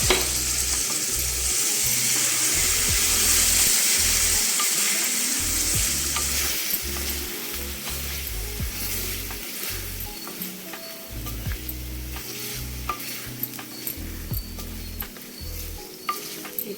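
Ginger paste frying in oil until the oil separates, a dense close sizzle that eases slightly over time, broken by intermittent stirring clicks and scrapes, with no voices.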